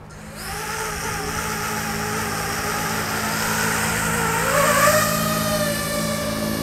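Drone motors spin at high RPM in a loud, steady whine that stays close throughout, its pitch rising and swelling near the end, with a constant low hum underneath and no talking.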